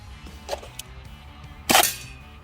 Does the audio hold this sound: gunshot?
yes